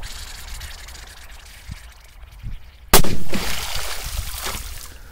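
A powerful firecracker explodes in water with one sharp, loud boom after a quiet outdoor wait, followed at once by heavy splashing and sloshing that fades over the next couple of seconds.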